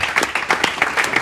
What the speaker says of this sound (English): Let's give him a round of applause as a thank you.